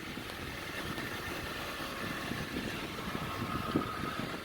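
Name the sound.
car engine running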